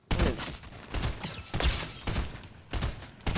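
Bursts of rapid gunfire during a fight in the video game Fortnite, several loud volleys separated by short gaps, with no talk over them.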